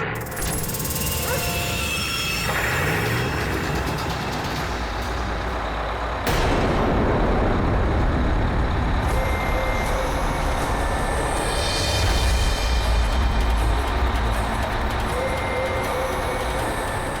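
A heavy vehicle engine rumbles to life with a sharp hiss partway through, then keeps idling loudly with a low, steady drone.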